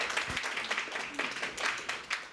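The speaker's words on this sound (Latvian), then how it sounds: "Aplausi!" An audience at an exhibition opening event gives a brief round of applause, a soft, steady patter of many hands clapping at a moderate distance.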